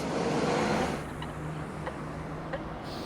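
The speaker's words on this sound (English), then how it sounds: "here is another bus now coming behind me" A bus rumbles past on a road in Bath, loud at first and then fading into a steady low traffic drone.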